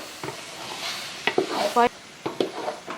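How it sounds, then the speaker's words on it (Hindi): Boiled, lightly ground wheat is mixed in a cooking pot for daleem, producing a few sparse scrapes and spoon knocks with faint sizzling between them. "अब हम इन्हें मिक्स करेंगे।"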